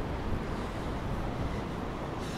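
Wind blowing hard along Blackpool seafront, a loud, broad, continuous rush with rumbling gusts buffeting the microphone, and no voices.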